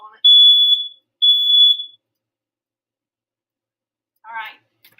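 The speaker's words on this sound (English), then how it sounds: "Because my fire alarm's picking up on it." A home smoke alarm sounds two sharp, loud, high-pitched electronic beeps about a second apart, followed by silence and then a brief burst of a voice speaking.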